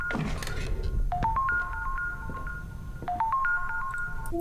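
A phone rings in a horror video game, an electronic ringtone of rising tones repeating twice, clear and fairly close, with low background rumble and no voices.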